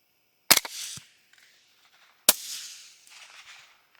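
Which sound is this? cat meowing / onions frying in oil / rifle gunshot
rifle gunshot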